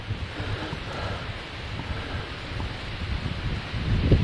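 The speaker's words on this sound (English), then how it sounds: "You can probably hear the wind going out." Cold wind gusts across an open spot in the Carpathian Mountains of Slovakia near the High Tatras after sunset, a steady broadband roar buffeting the microphone and swelling louder toward the end.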